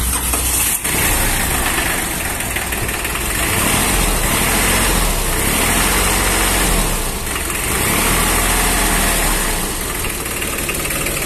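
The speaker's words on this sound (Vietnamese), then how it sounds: "máy nổ vậy là ok quá rồi, lên hát là nổ là được rồi" A Hinomoto farm tractor's diesel engine idles steadily, a loud, constant rumbling chug that runs unbroken for the whole stretch with no talk over it.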